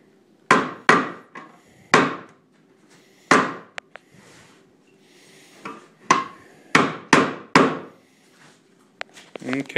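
Cooper hammering metal holding hoops down onto a wooden bucket in a cooperage workshop: sharp ringing blows come irregularly, sometimes in quick pairs, close and loud, with faint background noise between strikes.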